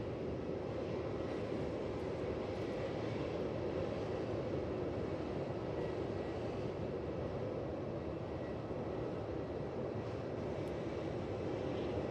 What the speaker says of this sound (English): Got that 330 from Colombo shortly too, landing on 16.